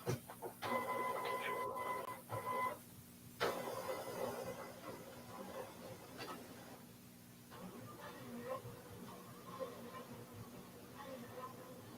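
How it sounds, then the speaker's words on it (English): A printer runs a print head nozzle check, whirring and clattering mechanically in uneven bursts with short pauses, fairly close, while people talk over it. "It's like the noisiest printer ever."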